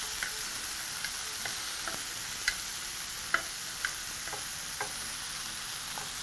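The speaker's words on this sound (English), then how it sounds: "proceed to move your tomatoes around, and once you have that beautiful color, proceed to toss them over" Tomatoes and peppers fry in a pan for a chicken pepper tomato stew, a steady soft sizzle broken by scattered sharp clicks and taps of a utensil stirring and tossing, with no voices.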